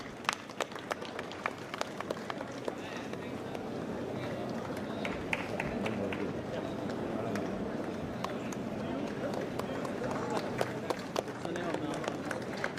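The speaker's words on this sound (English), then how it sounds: "can we have a round of applause, please?" Audience applause at the inaugural ceremony of India's first advocate academy in Taloja, Navi Mumbai: steady, dense clapping from a large hall crowd that holds at an even level throughout, with sharp individual claps popping out on top.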